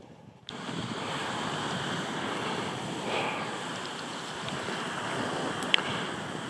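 Surf washing onto an eroding Norfolk beach, a steady broad wash of waves with wind buffeting the microphone, starting abruptly and holding a constant level, with a faint click near the end and no speech.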